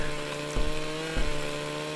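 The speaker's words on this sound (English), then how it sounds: "My own lawnmower turned on me." A lawnmower in the game Happy Wheels whirs with a steady buzzing engine tone, close and fairly loud, with two short thumping bursts about half a second apart and no voices.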